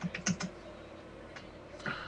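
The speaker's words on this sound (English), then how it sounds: "She's typing." Soft, faint keystrokes on a computer keyboard, a quick cluster of clicks followed by a few scattered taps over a quiet background.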